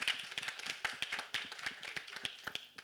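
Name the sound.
audience clapping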